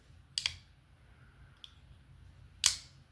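Muted clicks from a Quiet Carry Catch rust-proof folding knife, two soft snaps of the blade action spaced about two seconds apart, with a tiny faint tick between them in a quiet room.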